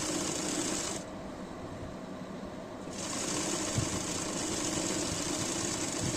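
A sewing machine runs steadily, setting a sleeve onto a round-neck pleated nightie with a continuous close hum that dips briefly in the middle before resuming.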